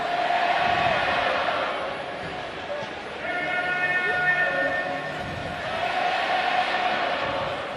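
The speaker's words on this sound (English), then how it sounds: "And this crowd getting a little more animated now." Football stadium crowd at a CFL game between the Winnipeg Blue Bombers and Toronto Argonauts, a steady roar of many voices swelling and dipping over several seconds, with a brief sustained whistle or horn tone partway through.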